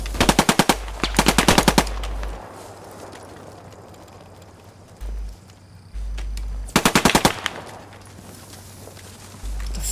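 Video game Post Scriptum gunfire: two loud close bursts of rapid machine-gun fire, one at the start and one later, separated by quieter stretches with distant low rumbles and thuds.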